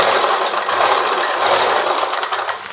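A sewing machine stitching a boat-neck saree blouse, running in a continuous close whirring, rattling buzz for a few seconds that eases off slightly at the end.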